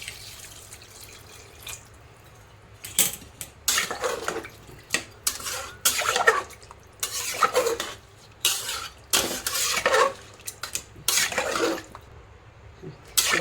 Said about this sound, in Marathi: त्याच्यानंतर आपल्याला आता पाणी ओतायचं आहे